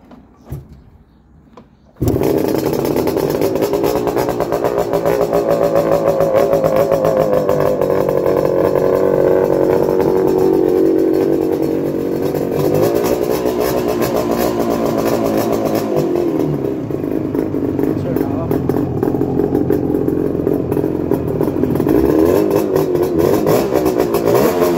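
A 1970 Suzuki GT motorcycle engine starts after a brief quiet moment, then idles and revs loudly up close, a raspy two-stroke drone that rises and falls over some twenty seconds.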